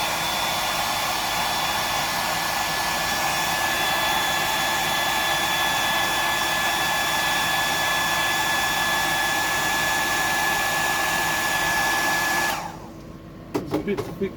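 A hair dryer blows steadily and loudly on the fresh coating of a deep-diver fishing lure painted as a bony bream, running for about twelve seconds before switching off, followed by a few faint clicks.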